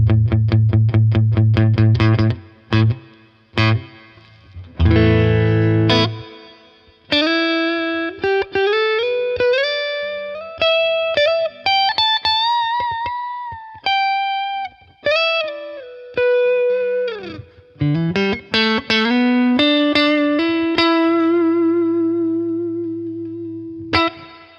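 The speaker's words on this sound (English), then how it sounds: "Let's bring in a little bit of reverb." An electric guitar played through a BOSS Nextone Stage amp with reverb added rings out loud and close in distorted chords and sustained melodic lines, notes blooming into a reverb tail between phrases, with no talking.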